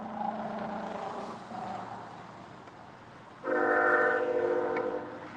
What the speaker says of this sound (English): We've been hearing that train, not that particular train, but the sound of the train the entire trip